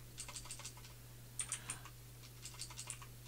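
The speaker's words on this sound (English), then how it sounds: "Oh, now I'm typing." Soft, quick typing on a computer keyboard comes in short bursts of light key clicks over a low steady hum, with no voices.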